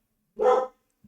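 A dog gives one loud, close bark alone in a quiet room, with a faint tiny yip after it.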